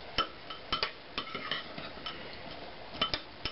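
A spoon stirs beans and soybean broth in a pot, giving a string of light scraping clinks and soft wet knocks at an uneven pace, close by, with no talking.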